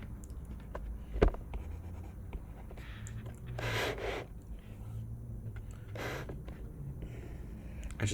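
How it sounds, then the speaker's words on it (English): Handwriting during a calculus lesson on improper integrals, soft scratching strokes of a pen or marker in a few short bursts over a faint steady room hum, close but quiet, with no talk. "I'm just gonna write right here."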